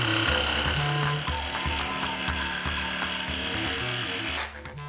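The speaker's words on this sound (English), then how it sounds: "We're going to be using the jigsaw for this, and we've got a special very small blade" A jigsaw with a very small blade buzzes steadily through wood with a rapid rhythmic chatter, loud and close, easing off just before the end.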